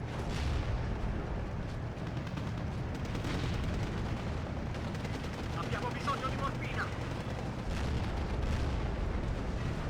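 Battle noise from a WWII strategy video game, with a steady rumble of artillery and machine-gun fire. Fighting with Shermans and 17-pounder guns crackles and booms continuously at moderate distance, and a few sharper bursts stand out midway.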